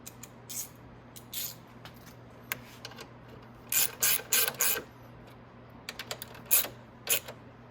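Ignition bolts on a 50cc/150cc Maddog scooter being tightened with a ratchet, heard as short bursts of clicking from the pawl, some single and some in quick runs, close up over a low steady hum.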